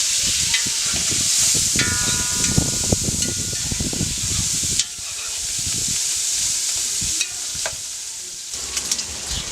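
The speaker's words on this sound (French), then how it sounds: "maintenant on va passer à la friture des saucisses" Sausages fry in a spoonful of oil over a wood fire, a loud steady sizzle with crackling spatter and occasional stirring scrapes, close and continuous with brief dips.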